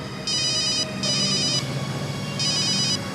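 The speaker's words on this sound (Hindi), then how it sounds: "एसीपी सर का फोन।" A telephone rings in three electronic bursts with short pauses between, fairly loud over a low background hum.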